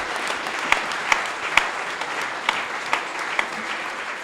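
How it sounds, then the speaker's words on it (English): An audience at a football club fans' forum gives a round of applause, steady clapping from a crowd indoors with a few sharper individual claps standing out, continuous for several seconds. "A big round of applause."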